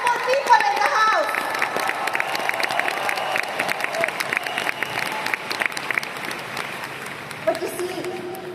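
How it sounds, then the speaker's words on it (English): A seminar audience at a leadership training event breaks into sustained applause, dense and fairly loud, with scattered cheers and crowd noise mixed through the clapping. "Can we all give ourselves a round of applause today to all the successful people in the house?"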